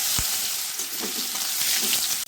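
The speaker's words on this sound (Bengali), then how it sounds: "ভাজা ভাজা করে নেব পেঁয়াজটাকে।" Chopped onion frying in hot oil for an egg dish, a steady broadband sizzle with a few soft stirring knocks, close and continuous with no talking.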